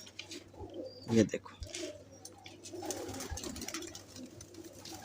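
Teddy pigeons coo softly nearby with a short throaty burst and a few quieter calls, while someone talks over them.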